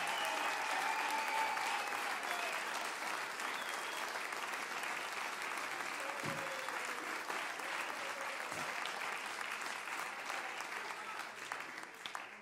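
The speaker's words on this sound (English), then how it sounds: "Give them a big God bless you clap." Church congregation applauding for its pastors, a sustained wash of clapping lasting throughout at moderate loudness, with faint voices mixed in.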